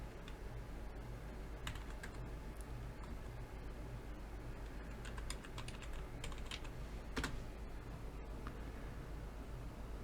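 Typing on a computer keyboard gives a faint, continuous patter of light key clicks with occasional sharper taps, quiet and close against a soft background hiss.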